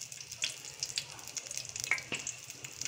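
Curry leaves dropped into hot oil with mustard seeds and cumin for a Maharashtrian fish curry, giving a close, steady crackling sizzle with sharp pops and spits throughout, without talk.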